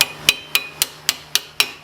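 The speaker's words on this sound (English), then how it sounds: "I'm sure some of you are like, don't hammer it. I've hammered it before, never had an issue." Metal hammer blows on the brake caliper of a 2003–2007 Honda Accord during front brake work, six sharp, close strikes evenly spaced at roughly quarter-second intervals with a ringing tone.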